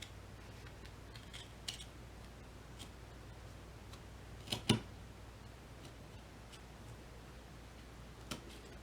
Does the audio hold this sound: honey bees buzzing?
no